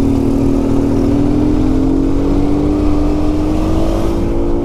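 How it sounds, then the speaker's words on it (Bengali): A super scooter passes on a highway on a long ride from Kerala toward Chennai, heard as a loud, close engine drone whose pitch rises steadily throughout, mixed with heavy road and wind rumble. "আমাদের ডান দিক দিয়ে বা আমাদের সামনে দিয়ে যাচ্ছে একটা সুপার স্কুটি। সাউন্ডটা শুনো একবার।"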